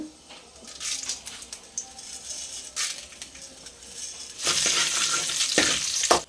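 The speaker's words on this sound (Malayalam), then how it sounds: "കടുക് ഇട്ട് കൊടുക്കുക ഉഴുന്ന് പരിപ്പ്" Mustard seeds and urad dal fry in hot coconut oil in a home kitchen, a crackling sizzle with scattered pops that swells louder near the end, close by and with no voices.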